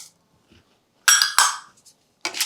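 Dry chana dal and toor dal are tipped into a pan for roasting, making two quick bursts of gritty rattling and clinking, then a shorter scatter after a pause.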